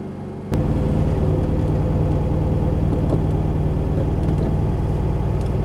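A 1968 VW Karmann Ghia's engine starts up and runs steadily while driving, a continuous close, even rumble with small shifts in tone as gears change.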